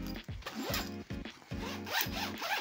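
A zipper on the outer cover of a motorcycle rider's chest bag is pulled open in several quick rasping strokes, close and loud, with no talking.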